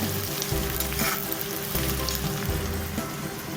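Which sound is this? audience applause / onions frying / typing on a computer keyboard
onions frying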